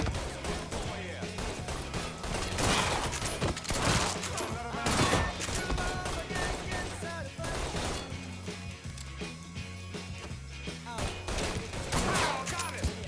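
Heavy gunfire in a Mafia III shootout: dense bursts of shots and rapid automatic fire crack repeatedly at close range, loud and sustained, with someone talking over the battle.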